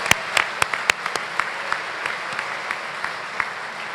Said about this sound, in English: Let's give all of them a round of applause as well.